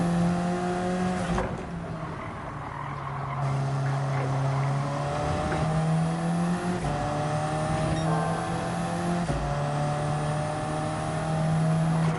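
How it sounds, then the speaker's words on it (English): Race car engine in Gran Turismo 7 on the Watkins Glen long circuit, revving hard and steady with gear changes and rising pitch, loud and close throughout, with brief tyre squeal. "Just revving out a little bit"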